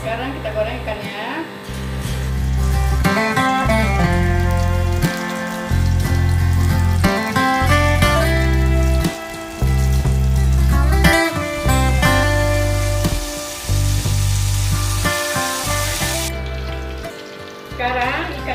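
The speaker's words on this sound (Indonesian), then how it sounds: "Sekarang kita goreng ikannya" Mackerel fries in hot oil in a pan, giving a steady close sizzle under a loud music bed.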